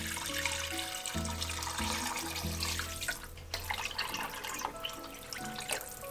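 Tap water runs and splashes into a pot for pho broth with a rotisserie chicken carcass, a steady close stream over low hum and a few clinks.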